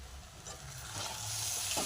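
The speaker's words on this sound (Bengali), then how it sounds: "ওপর থেকে ঘি দিয়ে দেবো। এটা দিয়ে ভালো করে লাড়াচাড়া করে ভেজে নেব।" Coconut filling for coconut nadu sweets is stirred and fried in ghee in a pan, giving a steady soft sizzle with scraping stir strokes, close and continuous.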